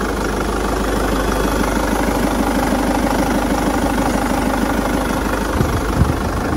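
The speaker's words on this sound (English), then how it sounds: "A quick video as well of the engine running." A 2013 Peugeot 508 SW RXH Hybrid4 engine idles in a steady, smooth drone with a low rumble and constant vibration, close and even for several seconds, with no talking.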